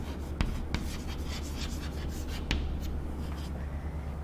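A pen scratches across a surface while a formula is written out, soft rubbing strokes with a few sharper taps, close and quiet over a low steady room hum.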